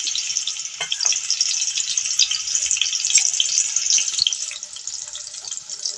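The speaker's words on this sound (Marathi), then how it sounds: "आता आपण बारीक कट केलेला कांदा घेणार आहोत कांदा आपल्याला छान गुलाबी रंगावर फ्राय करून घ्यायचा आहे" Finely chopped onion frying in hot oil for a quick baingan bharta, a loud, continuous bright sizzle with a few scraping stirs, close up and without talk.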